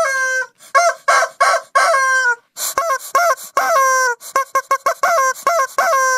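A chicken crows and clucks loudly and close, in a rapid series of harmonic squawks and short choppy bursts with no speech over them.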